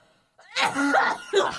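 A person coughs and groans harshly in a short strained burst, close up, followed by a rasping breath.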